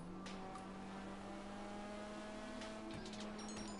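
A car engine revs and drones steadily in the game GTA 5, loud and continuous with a sustained low hum and some rising whine toward the end, no talking.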